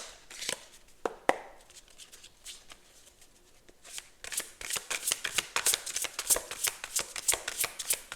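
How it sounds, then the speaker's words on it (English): Tarot cards shuffled and pulled by hand: a few scattered riffles and taps early on, then a dense run of quick, crisp card shuffles and snaps that grows louder and busier toward the end, with no talking. "And let's pull a few more cards."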